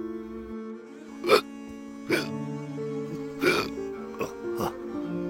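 An elderly man hiccups repeatedly, four or five sharp, close gulping spasms spaced about a second apart over a steady musical drone, with no talking.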